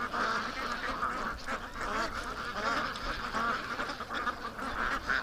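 Ducks by a creek keep up dense, continuous quacking and honking for several seconds, a close and busy chorus of many birds with no voices.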